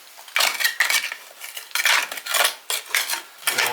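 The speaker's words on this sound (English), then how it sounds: "So we'll dig out all this loose clay." Loose clay being dug out in a garden, heard as a series of short, crisp scraping and clinking tool strikes in an uneven rhythm, close and moderately loud with quiet gaps between.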